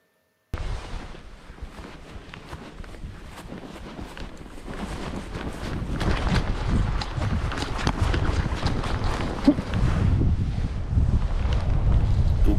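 Steady wind buffets the microphone at a grassy paragliding launch on the Kiosque site near Saint-Dié, a broad, gently sloping takeoff in a 10–15 km/h breeze, the rushing gusts growing louder and rougher toward the end with no voices.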